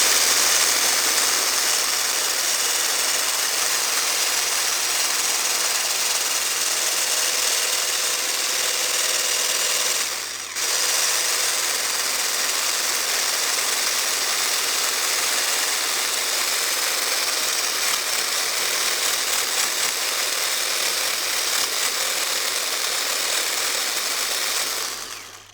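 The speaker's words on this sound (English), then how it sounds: "I'm going to use an electric whisk simply because it's a bit quicker." Electric whisk beating six egg whites until frothy, a loud, steady motor whine close by that runs nearly unbroken, with one short dip partway through, then winds down at the end.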